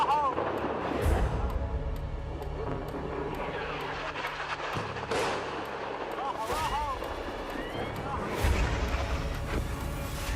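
Artillery and missile fire in Lebanon at night, with repeated booming blasts and sharp cracks over a rumbling background, some explosions loud and close while others sound distant.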